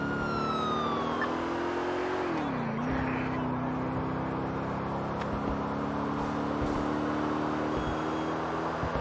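A police car siren wails steadily in Grand Theft Auto IV, its tone sweeping down and back up early on before holding loud and continuous over traffic and street noise.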